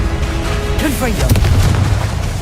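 A Confringo fiery blast spell going off in Hogwarts Legacy, a loud booming burst with a brief whooshing sweep in the middle, set in dense game noise with a voice casting spells.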